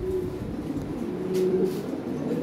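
Pigeons sold as a breeding pair coo softly and repeatedly, low murmuring calls close by against a quiet indoor background, with no voices.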